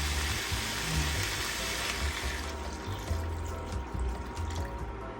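Water pours steadily into a pot of shrimp, a close splashing rush that fades to softer trickling partway through.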